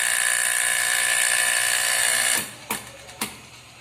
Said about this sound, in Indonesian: sekarang kita hidupkan trolinya